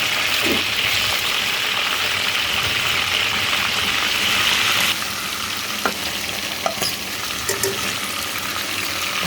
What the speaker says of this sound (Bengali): মাংসগুলো আমি হালকা ভেজে নিব। রোস্টের জন্য হালকা ভাজাটা আমার পছন্দ।